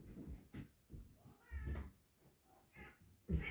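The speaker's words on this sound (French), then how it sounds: "Je vais ouvrir la porte au chat." A cat meows a few times nearby, short separate calls with brief pauses between them, along with some soft knocks and handling noises.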